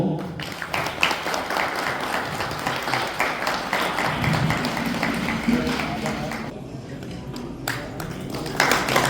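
Crowd at a 20 Kumaon Regiment foundation day ceremony in Haldwani claps loudly, a steady wash of applause with a voice over a speaker system cutting through, easing off toward the end.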